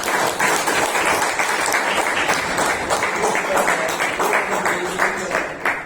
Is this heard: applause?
yes